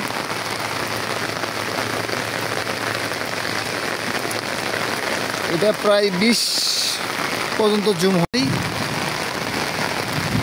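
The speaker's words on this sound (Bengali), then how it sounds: "দেখতে পাচ্ছেন বৃষ্টি হচ্ছে, এই যে টপ টপ করে বৃষ্টি হচ্ছে" Rain falling steadily, a dense continuous patter close to the microphone with a brief louder burst near the middle, while a person talks over it.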